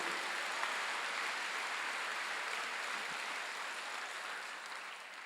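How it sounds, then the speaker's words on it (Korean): Church congregation at a Korean Sunday worship service applauding, a dense continuous patter of many hands, fairly soft and distant, slowly fading near the end with no speech over it. "박수"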